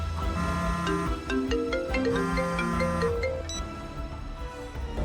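A phone ringtone plays a bright, bouncy melodic tune of quick stepped notes, loud and close, carrying on steadily for several seconds with no voices over it.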